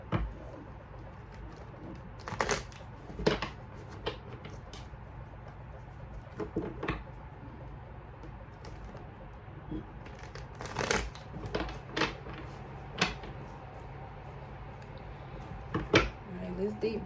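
A Modern Witch Tarot card deck that resists shuffling is handled with scattered, crisp riffling and snapping bursts, fairly quiet and close, with some talking in between.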